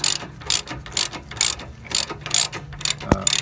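Close, loud ratchet clicking in rapid repeated bursts while breaking the nut off a rear sway bar link bolt on a 2004 Honda Pilot, with a sharp metallic clank near the end.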